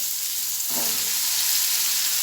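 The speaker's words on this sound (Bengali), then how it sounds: "তেল আমার গরম হয়ে গেছে, আস্তে আস্তে চিচিঙ্গাটা দিয়ে একটু নেড়ে চাপা দিয়ে দেবো।" Snake gourd pieces fry in hot oil in a pan, a steady, close hiss of sizzling with a short stirring scrape partway through.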